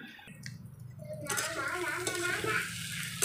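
Eggs and tomato sizzling in a frying pan, a steady bright crackle that swells after a quiet start and runs on at moderate loudness, with faint stirring clatter beneath.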